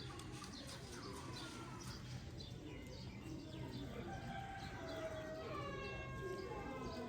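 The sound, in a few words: Ferozpuri breed female pigeons cooing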